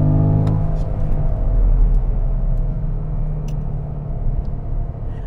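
A 2013 Porsche Panamera GTS naturally aspirated V8 in Sport mode rumbles deep and throaty up close, loud and continuous with a low growling idle.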